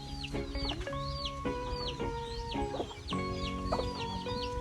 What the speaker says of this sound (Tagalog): Ang daming manok sa likod ko.